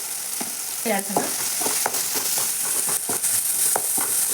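Vegetables fry in a pan with a steady hiss while a utensil stirs and scrapes in short, irregular clinks and strokes, close and fairly loud, with no voices.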